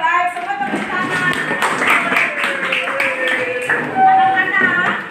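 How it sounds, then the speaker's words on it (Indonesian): Class of schoolchildren clapping hands together, a scattered patter of claps close by, running under a teacher's voice speaking over it. "Oke, baik, semua tepuk tangan."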